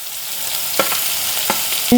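Garlic, crushed ginger and green chilli sauté in a pan with a close, steady hiss of frying, broken by a few sharp stirring taps and scrapes.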